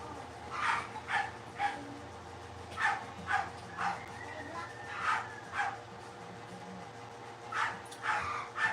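A dog barks in short repeated bursts, some yippy and whiny, at a moderate distance against a quiet background hum; no one speaks.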